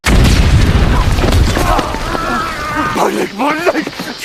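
A landmine goes off in a war film, a loud deep boom at the start that rumbles and decays, followed by shouted voices.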